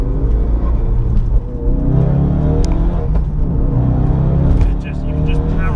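A 400 bhp Ford Focus RS Mk3 with all-wheel drive accelerates hard, its engine droning loud and steady inside the cabin with a brief dip midway, while a person talks over it.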